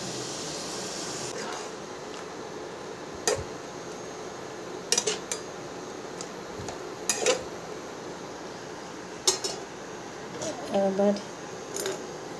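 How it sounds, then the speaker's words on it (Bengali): Metal pot and lid clinking and clattering in a home kitchen while gourd greens cook, a few sharp clanks scattered over low background hum, with a brief cluster of knocks near the end. "এবার এটা চাপা ঢাকা দিয়ে দেবো শাকটার ডাঁটাগুলো সেদ্ধ হওয়ার জন্য"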